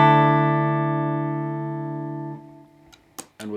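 A clean electric guitar played with no pedal engaged: one sustained chord rings out alone and slowly decays, followed by a few faint string and pick noises near the end.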